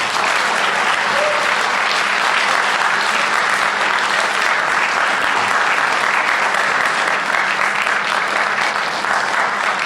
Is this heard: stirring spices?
no